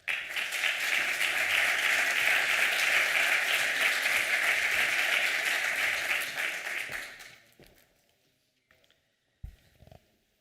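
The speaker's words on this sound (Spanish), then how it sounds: "Un fuerte aplauso para ella." An audience at a cultural heritage conference in Aragón gives loud, dense applause that lasts about seven seconds and then fades into near silence, broken by a couple of faint knocks.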